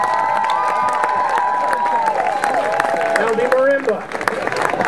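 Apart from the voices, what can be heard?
audience applause and cheering for a children's marimba ensemble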